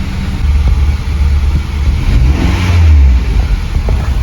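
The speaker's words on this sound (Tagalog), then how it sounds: "Tapos paanda rin natin ang makina." A Honda engine with a cylinder misfire starts up and settles into a loud, uneven rough idle, with a low throbbing rumble that swells briefly before evening out.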